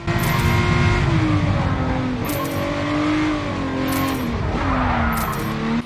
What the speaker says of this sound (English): Also have a listen to this engine sound.